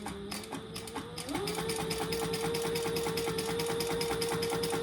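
A sewing machine stitches vinyl on a boxy crossbody bag at a 3.5 stitch length, running in a steady, even hum that picks up slightly in pitch after the first second and continues without pause.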